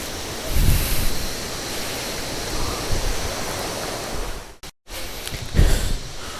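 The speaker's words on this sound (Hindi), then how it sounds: "झरने की आवाज़ आपको" Ban Jhakri Falls in a park in Gangtok, Sikkim, roars as a steady broadband rush of falling water, continuous and fairly close, with a brief dropout near the end.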